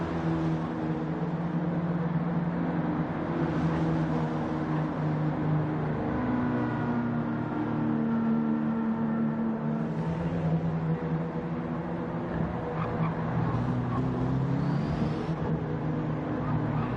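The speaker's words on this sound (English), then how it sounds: "Evo's almost sound like they've got diesel engines the way they pull off that hairpin." Mitsubishi Evo touring cars in a racing video game pull away from the Laguna Seca hairpin, their engines giving a continuous, steady, loud drone of overlapping revs with no break.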